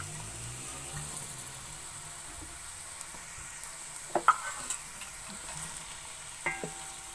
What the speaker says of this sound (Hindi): अब इस प्याज को मैं ब्राउन कर लूँगी।